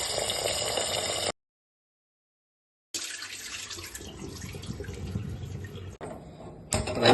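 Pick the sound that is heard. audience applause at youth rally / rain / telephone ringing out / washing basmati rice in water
washing basmati rice in water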